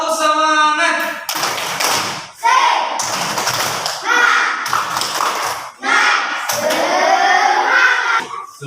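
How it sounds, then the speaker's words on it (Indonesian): A school class led by a teacher claps together in a rhythmic, patterned cheer, loud and close, with bursts of sharp claps separated by brief pauses and chanting children's voices running throughout. "Tepuk semangat"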